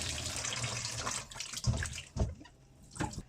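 Squid is rinsed under running tap water to wash off salt and vinegar. The stream splashes and gurgles close by, with a few louder sloshes as the squid is handled in the sink.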